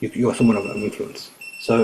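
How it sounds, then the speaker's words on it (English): A timer alarm beeps as a sustained high electronic tone running under a man's continuous speech to an audience. "that's my alarm saying that my time's up"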